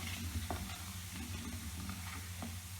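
Asafoetida, mustard seeds, fennel and cumin tempering in hot oil for mango pickle, a steady soft sizzle with a few light stirring clicks, close and fairly quiet, no voices.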